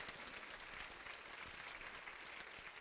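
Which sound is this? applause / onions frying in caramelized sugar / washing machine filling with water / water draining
applause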